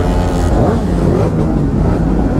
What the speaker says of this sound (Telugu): ఇది ఒకటే కొంచెం ఆ సూపర్ బైక్ సౌండ్ వస్తుంది ప్రస్తుతానికి